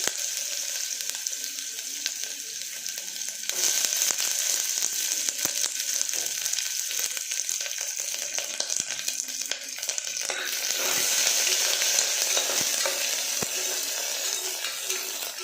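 Onions fry in a hot pan for vegetable pulao, giving a continuous loud sizzle that swells as they are stirred, with occasional soft scrapes and taps from the spoon.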